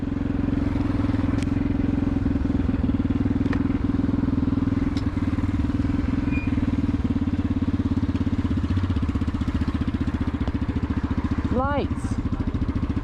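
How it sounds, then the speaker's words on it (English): A motorcycle riding on the road, its engine droning steadily and close throughout with wind rumble and a few faint clicks. "Let's see what they do with the speed of their motorbike in relation to risk."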